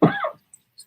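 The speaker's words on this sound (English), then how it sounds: "I'm going to have a cough again, you guys." A single person's cough, close and fairly loud, one harsh burst lasting about a third of a second and followed by near silence.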